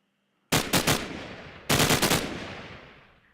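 Upgraded AK-47 in Minecraft firing two short bursts of about four rapid shots each, loud and close, with each burst ringing out in a long fading tail.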